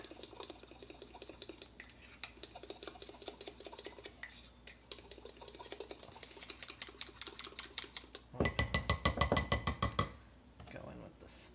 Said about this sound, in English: And you just mix with your fork